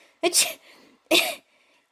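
A voice imitates the Lorax from the Dr. Seuss story sneezing and coughing, two loud, breathy bursts about a second apart with a brief murmur after each.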